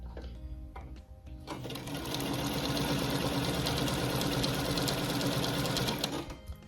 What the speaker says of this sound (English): let me sew these two together